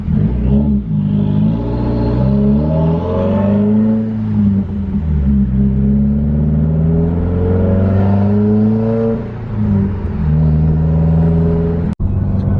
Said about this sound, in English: you hear the turbo just start to get going and start it makes a nice whistling noise